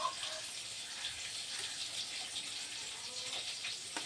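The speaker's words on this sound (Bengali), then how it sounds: "ওই হাতে একটু জল দিয়ে দেবো।" A little water is poured onto a hand, a soft, steady trickling hiss that runs for several seconds at close range, with a faint knock at the end.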